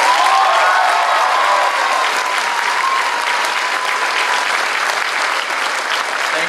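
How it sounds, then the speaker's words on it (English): Audience applause for Leo Montijo at a senior honors night, sustained loud clapping from a full room, even and continuous from start to finish with no voices standing out. "So, round of applause for Leo Montijo."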